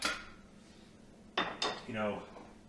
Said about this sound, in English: put the lid on that pot